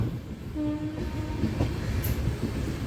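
A passenger train rolls slowly into Machilipatnam past a coach maintenance yard, a steady rumble of cars with faint wheel clicks and a brief high squeal near the middle, heard up close from on board.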